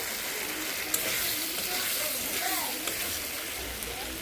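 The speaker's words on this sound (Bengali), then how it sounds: "মশলাটা তেল ছাড়া পর্যন্ত একটু ভেজে নিই।" Spice paste with fried cauliflower and potato sizzling in hot oil for a fish curry, a steady bright hiss with faint stirring clicks throughout.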